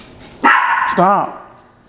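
A dog barks twice in quick succession close by, a sharp bark followed by a rising, wavering yelp, loud and alone at a quiet dinner table.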